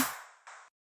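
A synthesized snare built in Serum with a full effects chain: a sharp, bright noisy hit that decays over about half a second, then a second burst of filtered noise tail that cuts off abruptly, alone.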